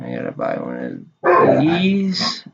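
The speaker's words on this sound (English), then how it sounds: "Sorry about my dogs." Dogs bark and yip nearby in short bursts, mixed in with and partly under someone talking.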